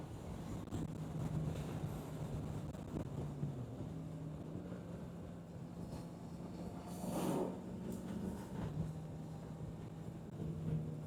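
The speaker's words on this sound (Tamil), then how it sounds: "காற்று பயங்கரமாக தள்ளுதுடாப்பா." Strong wind roars steadily over the microphone of a Kawasaki Z900 motorcycle at speed, a continuous broadband rush with the engine's low hum beneath it and a brief gusty swell midway.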